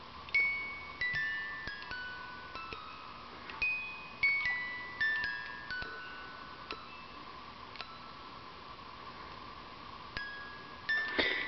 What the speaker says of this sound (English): here's one of those little music box things